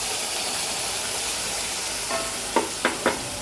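Tomato puree is stirred into chole masala frying in a pan, a steady sizzle and hiss with a few short scraping stirs near the end.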